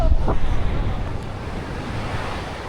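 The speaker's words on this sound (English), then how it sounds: "there are some gusts up to, 40 kilometers an hour" Blustery wind gusting up to 40 km/h at Playacar, Playa del Carmen, roaring into the microphone, with a rushing, surf-like wash that surges and settles over a couple of seconds.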